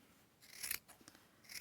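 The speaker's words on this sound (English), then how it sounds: "I'm going to cut." Scissors snipping through a felted wool sweater along its seam, with a few close, crisp rasping cuts in quick succession, then a short pause before another cut begins.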